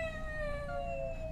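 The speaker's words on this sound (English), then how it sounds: "This is her scared mewling." A frightened cat mewls in a steady, sustained tone with a faint rising and falling pitch, close and fairly loud over a rumbling low background.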